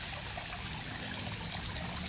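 Steady, soft trickle of a backyard Hawaiian-style pool water feature, a continuous gentle splash and babble close by with no voices.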